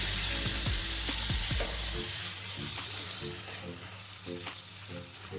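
Masala macaroni being stirred with salt in a hot pan, a steady sizzle underneath with scraping strokes of the spoon at the start and a few lighter clinks later on, close by and fairly loud.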